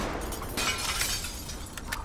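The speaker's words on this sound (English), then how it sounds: "Broke the glass." Glass shattering in the Tom Clancy's The Division video game, heard as a loud, bright crash with scattered tinkling debris and noisy game ambience throughout, without speech.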